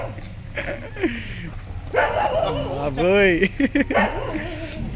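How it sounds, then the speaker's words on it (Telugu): Dogs yelp and whine near a house, with a drawn-out whimpering howl in the middle, mixed with people talking close by. "కుక్కలు కూడా ఎట్లా మురుస్తున్నాయి, బావు చేస్తున్నాయి అది బయట రాగానే"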